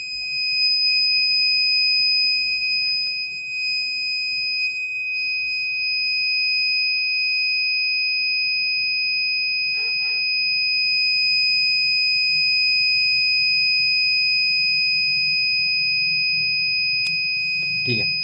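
Buzzer in an Arduino UNO water project with LEDs and a motor, sounding as a steady, continuous high electronic tone that holds unbroken for the whole stretch, alongside a faint low hum.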